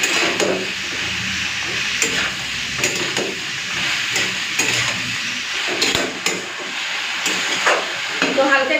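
Vegetables fry in a pan with turmeric powder and bay leaves, a constant close hissing sizzle with occasional stirring knocks, and a voice is heard over it.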